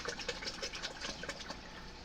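Water pouring into a container, a soft steady gushing stream with slight bubbling pulses, fairly faint and without any talk.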